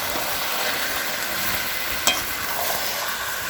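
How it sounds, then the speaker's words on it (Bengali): Spicy chicken curry stirred in a pot over a clay stove, a continuous hiss of sizzling with scraping stir strokes and one sharper clack, close and steady with no talking. "মাংসটাকে ভালো করে নেড়ে নিচ্ছি"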